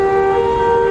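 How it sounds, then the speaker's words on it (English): A siren wails loud and steady during a flooding thunderstorm with heavy rain in Mineola, New York, its strong sustained tone filling the short moment. "There's a siren."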